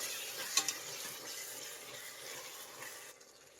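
Spices and green chilies for tomato pulao are stirred in a pan with a spatula, soft scraping and faint sizzling close by, two sharp clinks early on, then the mixing grows quieter.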